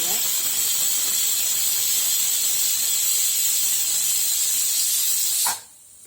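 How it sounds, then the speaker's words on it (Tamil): A pressure cooker cooking chicken biryani vents a loud, steady jet of hissing steam through its whistle for several seconds, then cuts off abruptly, leaving a quiet background hiss. "ரெண்டு விசில் வந்துச்சு நான் ஆஃப் பண்ணிக்கிறேன்"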